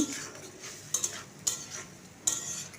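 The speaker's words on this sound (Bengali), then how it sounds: "মশলাটাকে খুব ভালো করে কষতে থাকবো যতক্ষণ না মশলা থেকে তেল ছাড়তে শুরু করেছে" Spice paste with a little salt fries in oil while being stirred hard, a soft continuous sizzle punctuated by several sharp metallic scrapes and clinks of a spoon against the pan, close and unaccompanied by speech.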